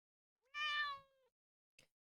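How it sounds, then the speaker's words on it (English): A house cat lets out one loud, close meow that rises and then fades. A short, faint rustle follows a moment later in an otherwise quiet room. "think about how my cat is crying at me"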